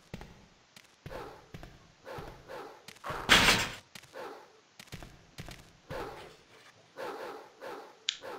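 Dogs barking and snarling in Resident Evil 2, a series of short bursts spread across the stretch, with one loud heavy thud in the middle.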